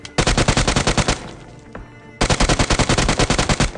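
UMP submachine gun fire in PUBG Mobile, two loud sustained automatic bursts of rapid, evenly spaced shots with a short pause between them.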